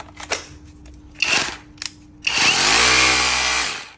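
A Makita power drill triggered in a few short bursts, then held at high speed in a loud, sustained close whine that winds down at the end.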